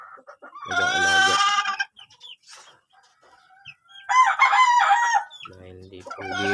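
Texas gamecocks on a small chicken farm let out loud, close crows and clucks in separate bursts, with quieter gaps between them.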